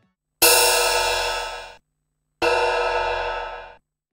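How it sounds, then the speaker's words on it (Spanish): Two separate ringing clangs, each decaying over about a second and a half, are played back as an audio item with low-pass filter EQ applied in REAPER, dulling the top end. No talk is heard. "Voy a cortar un poco agudos con un filtro de paso bajo"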